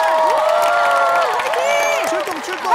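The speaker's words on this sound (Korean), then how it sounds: "박수 주세요." A Korean TV studio audience at a family trot singing stage claps and cheers loudly in a dense, continuous wave of applause with whoops and shouts.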